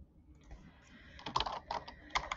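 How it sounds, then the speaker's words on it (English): Soft, quick keystrokes on a computer keyboard come in short bursts, fairly close and quiet, with no voices over them. "So you type in the last name of the people that you want to share it with."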